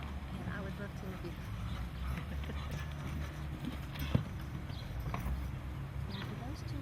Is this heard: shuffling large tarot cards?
no